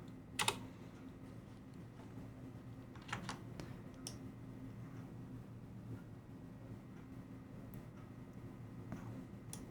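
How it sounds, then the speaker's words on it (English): A computer keyboard is typed on quietly while installing Fluxbox on FreeBSD, with a few scattered, faint key clicks over a low steady hum. "So now we just type start x."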